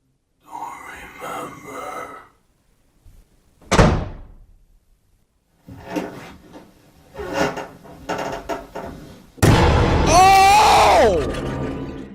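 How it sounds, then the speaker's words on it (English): A heavy door bangs shut once, a sharp thud standing out between stretches of muffled movement and voices, followed by a loud groaning burst. "You didn't hear that door?"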